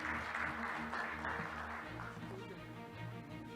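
Quiet applause at the opening ceremony of an academic conference as a guest arrives, a soft patter of many hands that fades after a couple of seconds under a continuing voice on a public-address system.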